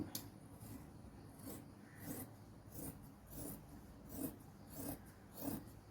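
Scissors cutting fabric for straight pants, a soft repeated rasping snip-and-slide rhythm about once a second, close and faint, with no voices.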